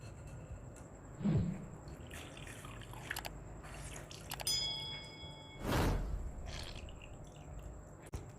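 Water drips and trickles from squeezed chhena, the fresh cheese for rasgulla, in a home kitchen: faint, close liquid splashes and a couple of louder dribbles over quiet background hiss.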